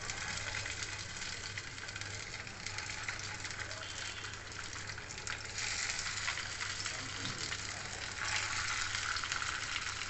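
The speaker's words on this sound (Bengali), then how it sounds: "এই গরম তেলের মধ্যে পিস করে কেটে রাখা ফিশ সসেসগুলো দিয়ে দিচ্ছি।" Cut pieces of fish sausage fry in hot white oil on a stove. The sizzle is a steady, dense hiss that stays strong throughout and swells slightly near the end.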